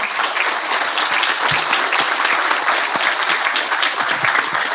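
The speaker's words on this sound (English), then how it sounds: "Please give these panelists a round of applause." A crowd at a World Food Day event applauds a panel. Loud, even clapping carries on without a break from start to finish, with no talk over it.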